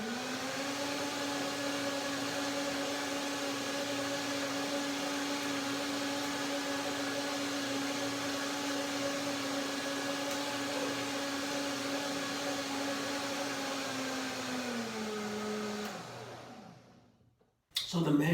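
A kitchen blender whirs steadily at high speed for about sixteen seconds, blending cashews, banana, dates and lemon into nut milk, then winds down and stops.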